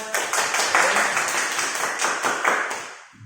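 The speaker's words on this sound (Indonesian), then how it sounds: "Boleh beri tepuk untuk kita semua." A small class gives a brief round of applause at the start of a microteaching lesson, scattered clapping close by, tapering off after a few seconds.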